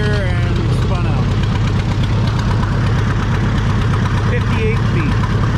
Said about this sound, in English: we got that John Deere 830 hooked up again